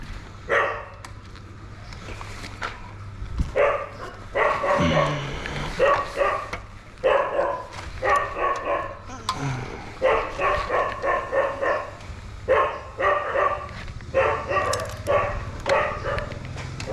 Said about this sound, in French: Il y en avait je sais pas combien des chiens.